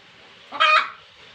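A single short, loud chicken cluck or squawk rises out of quiet garden surroundings near a coop, close by, then fades back to near silence.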